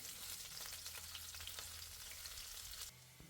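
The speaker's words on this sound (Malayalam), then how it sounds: "ഇനി വെളിച്ചെണ്ണയിലേക്ക് ഒരു കഷ്ണം ഇഞ്ചി അരച്ചതും രണ്ട് പച്ചമുളക് അരിഞ്ഞതും രണ്ട് വെളുത്തുള്ളി അരിഞ്ഞെടുത്തതാണ് അതും കൂടി ഇടാം ഒന്ന് മൂപ്പിച്ചെടുക്കാം" Grated ginger, chopped green chilies and garlic sizzle in hot coconut oil for a jackfruit seed masala curry, a loud, dense frying hiss close by with faint stirring scrapes, cutting off sharply near the end.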